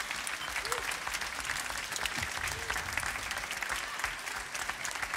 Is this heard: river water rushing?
no